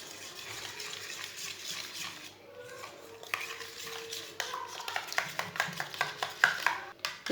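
Spices, red chili powder, turmeric, ground coriander and garam masala, being stirred together in a bowl for an egg dish, a soft scraping swirl that builds into rhythmic spoon clinks against the side, with no voices.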